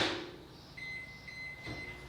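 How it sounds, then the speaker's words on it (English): A microwave oven heating a burrito to melt the cheese gives a steady humming whir with a faint thin tonal whine, plus a soft thump or clunk near the end, no voices. "throw in the microwave for 30 seconds and let it melt the cheese and kind of get all the flavors together"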